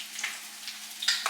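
Eggs frying in oil in a pan for corned beef hash, a steady soft sizzle with brief louder crackling bursts near the end, close and on its own.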